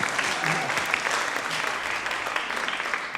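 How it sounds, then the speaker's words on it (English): An audience at an Indigenous peoples summit panel claps steadily, a dense, even round of applause that fills the room for its whole length without letting up. "if you want to just applaud now, that's totally fine"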